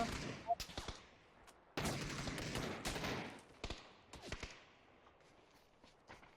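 Gunfire from the battle game PUBG: sharp isolated shots early, then a dense close burst of rapid fire, trailing into scattered cracks and softer impacts, with faint movement sounds between.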